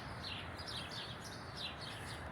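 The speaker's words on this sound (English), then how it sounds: "there's a bunch of birds in there right now" A bunch of birds in a tree chirp faintly in quick, repeated high tweets over steady outdoor background noise, with no talking.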